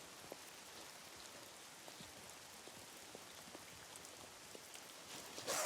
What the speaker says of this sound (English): it is raining quite steadily